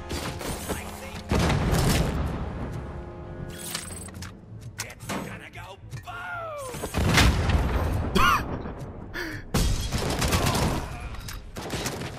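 Rapid gunfire and booming explosions from the video game RoboCop: Rogue City fill the scene loudly in repeated bursts, with a voice talking intermittently over the combat.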